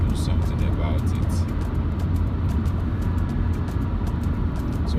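Car driving along a road in Delta State, Nigeria, its steady low engine and tyre rumble running continuously with people talking over it throughout.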